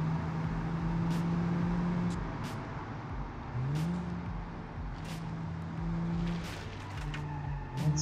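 A ZAZ 1102 Tavria with a 1.1-litre engine, recreated in the racing game Automation, drifts and slides. A steady engine drone carries rising tyre-squeal tones, with short high scrapes breaking in over eight seconds and no talking.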